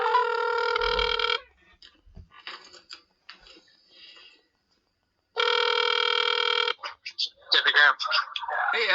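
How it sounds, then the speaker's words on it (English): Telephone ring tones on a recorded phone call, two long steady buzzing rings separated by a pause, loud and close, with faint voice fragments between and talk starting after the second ring. "But here is the phone call that I made today, October 17th, and I talked to Alex."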